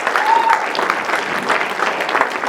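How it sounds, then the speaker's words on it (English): Loud, continuous audience applause fills a UCP town hall crowd, a dense steady roar of many hands clapping without pause. "Big round of applause."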